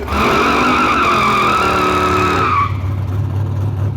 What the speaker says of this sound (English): But this one's got a freaking Hemi.